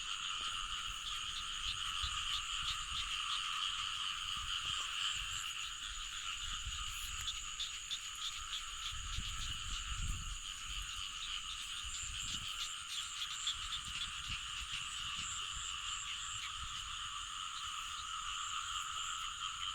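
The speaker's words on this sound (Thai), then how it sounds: "เสียงกบเสียงเขียด" Frogs croak in rice fields as a dense, continuous chorus of pulsing calls that carries steadily throughout, with no voices.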